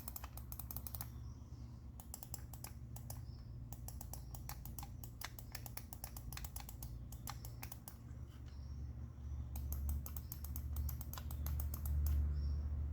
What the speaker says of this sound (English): Pressing these buttons feels just like pressing the buttons on a mouse.